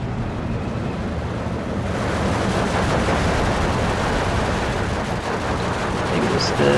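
Rapid bursts from an anti-aircraft half-track gun in the Steel Division 2 wargame, a dense rattling fire that builds after a quieter start and keeps going amid battle noise.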